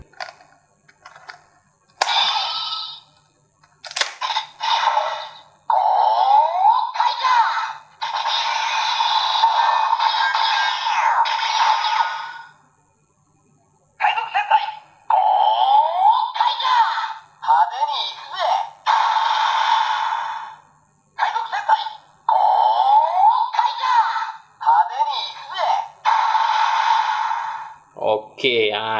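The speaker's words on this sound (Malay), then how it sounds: "itu bunyi untuk Legend Mobi Red" DX Legend Mobirate Gokaiger toy with the Mobi Red key plays its electronic sound effect, a run of loud, bright, bursty voice-like calls and jingles broken by short pauses.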